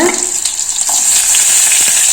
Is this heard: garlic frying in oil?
yes